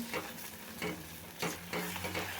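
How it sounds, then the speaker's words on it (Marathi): Semolina roasting in ghee in a pan is stirred, with repeated scraping sweeps of a spoon over a soft sizzle, close and without talk. "आता केळं टाकल्यानंतर अजून एक पाच मिनटं आपल्याला हे रवा भाजून घ्यायचं"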